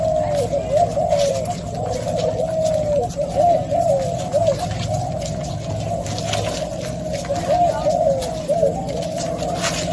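A white pigeon coos in repeated soft, rolling phrases throughout, fairly close, over a steady low background hum with faint outdoor noise.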